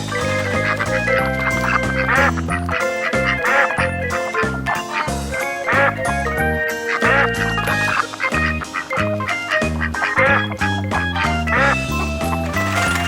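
Busy quacking from ducks at a small pond on a toy Lego Duplo farm, loud and continuous with dense overlapping, tonal calls and no pauses.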